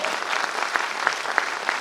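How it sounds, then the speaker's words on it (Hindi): Loud audience applause at a company stage event, a dense wash of many hands clapping together for the whole short stretch, with no talk over it. "इन लोगों के लिए जोरदार ताली बजाओ।"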